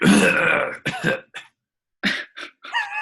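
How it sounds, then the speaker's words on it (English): Several rough throat clearings in quick bursts, close and loud, separated by short silences. "Sorry, I keep clearing my throat."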